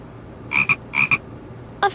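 Frog croaks from the I Spy Fantasy game: two quick double-croak pairs, then a third short croak at the end, close and clear over a faint background.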